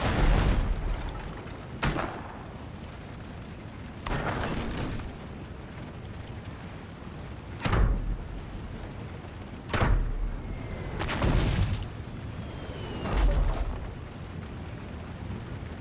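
A ship fires its guns at an enemy vessel in the video game Abandon Ship, with six loud, booming cannon blasts spaced a couple of seconds apart over a low rumbling background and no talk.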